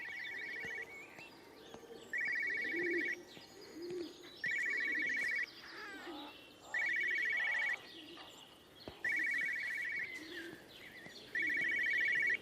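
Telephone ringing in the video game Everybody's Gone To The Rapture, repeated bursts of ringing alternating with pauses over steady ambient birdsong and cooing doves.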